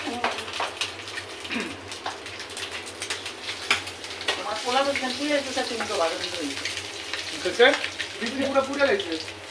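Food fries in very hot oil for morog polao over a coal fire, a continuous crackling sizzle close by with occasional clinks, while birds coo and chirp in the background.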